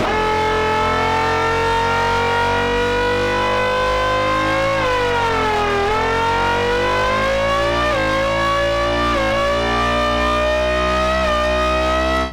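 Synthesized formula bass, a lead sound pitched up so it sounds like a race car, a loud sustained buzzy tone with pitch bends that dip and rise like a revving engine, with no talk.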